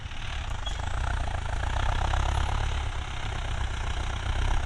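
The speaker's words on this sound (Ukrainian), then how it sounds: "Трактор тягне непогано, вроді." A tractor engine, an MTZ 952 pulling a disc harrow with discs sunk deep, rumbles low and steady under load, with a constant deep drone and rattling texture, close and unbroken, with no speech.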